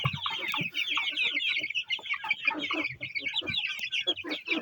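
Chickens and roosters cluck busily in a dense, continuous chorus, with sharp overlapping calls from several birds close by and no pauses.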